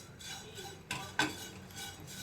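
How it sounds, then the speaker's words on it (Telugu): Whole spices for tea masala are dry-roasted in a pan, giving faint light rattling and two sharper clinks of a spoon against the metal in a quiet kitchen. "ఇగోండి ఈ విధంగా అన్నీ వేయించుకోవాలి. కొంచెం కలర్ మారేంత వరకు ఇవి వేయించాలండి."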